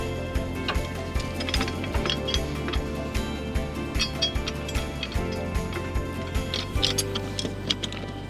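A ratchet snugs down the four bolts on a tow vehicle hitch kit, a close, steady run of quick metallic clicks with occasional clinks.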